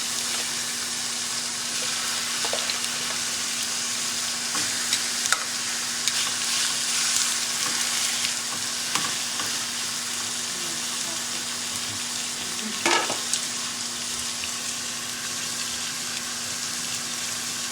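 Chicken pieces browning in a pan for stew, giving a steady soft sizzle and crackle over a low hum, with a couple of brief clinks partway through.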